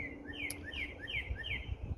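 Small birds chirp outdoors in a repeated series of short, bright tweets over a steady low background hum, fairly faint and with no talking.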